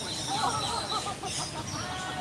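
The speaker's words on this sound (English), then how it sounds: "Even with the loud bird." A loud bird calls repeatedly at an outdoor animal park exhibit, its raucous cries rising and falling over a steady crowd murmur and background chatter.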